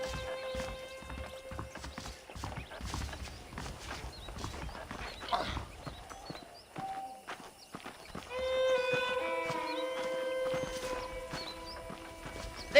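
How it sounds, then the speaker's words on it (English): Saddled horses in the video game Red Dead Redemption: steady hoof clip-clops and a whinny over a background of game ambience and tonal music, moderately loud and continuous. "The horses are saddled up over here."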